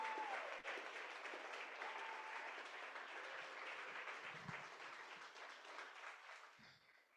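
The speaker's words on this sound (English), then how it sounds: "One more round of applause for all the athletes here who competed today in person" Applause from an in-person audience at an athletics virtual qualifier event, a steady dense wash of clapping that holds for several seconds and then thins and fades toward the end.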